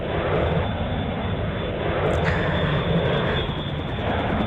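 Fighter planes and helicopters roar in a combat video game, a loud continuous engine and rotor drone filling the whole stretch with no breaks or talk.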